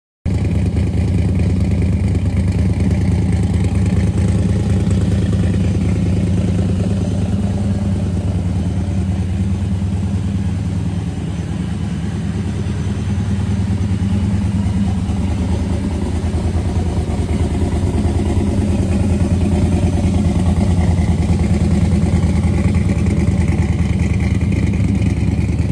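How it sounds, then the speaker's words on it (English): Steady, loud idle of a 1987 Chevrolet Camaro IROC-Z with a 383 small-block Chevy stroker and F1 Procharger supercharger, a deep lumpy rumble with mechanical clatter running unbroken throughout. "This 1987 Camaro IROC-Z with T-tops is a true beast on wheels, featuring a meticulously built 383 SBC stroker topped with an F1 Procharger"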